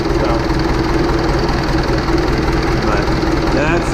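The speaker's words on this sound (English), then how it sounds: "That's the starter. That's about the 10th crank on it. That engine sure sounds good." A hot John Deere 450 crawler engine turns over on a newly fitted starter, giving a loud, steady, close-up mechanical drone that runs the whole time.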